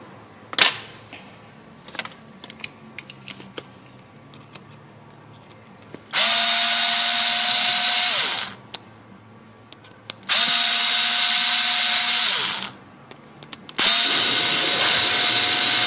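A power drill backs out hex bolts on an Axial Yeti RC model in three separate whirring bursts of about two seconds each, close and loud, with small clicks and handling noises between them.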